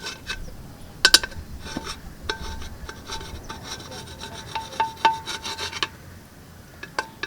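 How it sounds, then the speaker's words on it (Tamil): Dirt that has soaked loose is scraped from a pressure cooker, giving intermittent rubbing, rasping strokes with sharp metallic clicks up close, uneven in rhythm and with no voices. "இங்கெல்லாம் கொஞ்சம் ஊறி இருக்கிற தொட்டு நம்ம சுரண்டுனா வந்துடும்."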